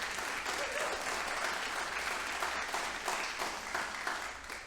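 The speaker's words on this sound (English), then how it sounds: "So let's warm it up and applaud to ourselves." An arts community group applauds itself, a steady wash of many hands clapping at once, fairly loud and sustained with light overlapping cheers and no break.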